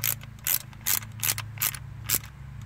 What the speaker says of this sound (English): just to show you how I'm snugging these, you can see where my hand is on this 1/4 inch ratchet